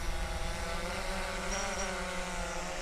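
A DJI Phantom 4 drone takes off and flies, its propellers giving a loud, steady, close buzzing whine that holds constant throughout with no speech.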